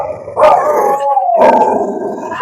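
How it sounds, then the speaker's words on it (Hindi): Several dogs in a colony at morning, howling and yipping near the listener in two drawn-out, overlapping bursts with sharp barks at their starts. "यही सब भौंक रही हैं।"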